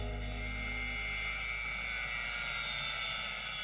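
A rotary tool whines steadily as it trims the overgrown beak of an anesthetized box turtle, a continuous high-pitched drilling buzz that fills the short stretch at constant loudness with no voices.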